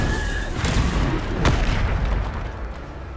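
Bombarda spell blast in the Hogwarts Legacy video game, a loud booming explosion with a sharp crack near the middle, standing alone over dense rumbling game noise.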